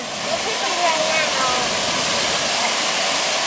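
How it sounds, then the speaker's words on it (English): Waterfall roaring steadily behind a rock-climbing spot, a loud, dense, continuous wash of rushing water heard up close throughout. "I got the waterfall behind you."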